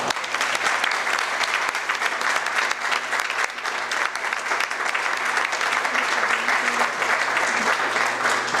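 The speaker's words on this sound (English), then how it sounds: "Dick deserves a round of applause." An audience at a community foundation thanks-giving gathering applauds steadily and loudly for the full length, a dense wash of clapping with no voices heard above it.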